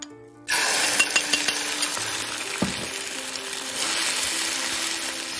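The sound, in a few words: scrambled eggs with moringa leaves frying in a hot wok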